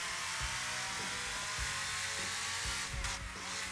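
Engine roar of a mini Lamborghini-style supercar in the Burnout Paradise Remastered racing game, a steady, dense drone running unbroken through the clip with faint low thumps.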